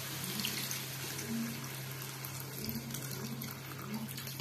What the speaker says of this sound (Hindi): आवश्यक अनुसार पानी दबा।